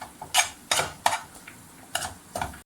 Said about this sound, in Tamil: நம்ம இப்படி கிளறி விட்டுக்கிட்டே இருக்கணும்.